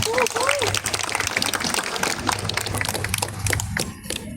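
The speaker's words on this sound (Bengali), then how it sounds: "আমার মনে হয় এসডিএফ এর জন্য একটা জোরে হাততালি হলে খুব ভালো লাগবে।" Applause for SVF at a music and film launch event, a crowd clapping in a dense patter, with some voices and shouts mixed in near the start.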